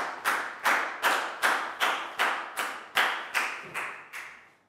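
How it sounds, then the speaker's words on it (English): A small group of schoolchildren in a Year 4 maths classroom clap for a classmate, giving about eleven distinct, evenly spaced claps in a steady rhythm, close and moderately loud, with no talking over them. "And a big round of applause for Nadia, guys."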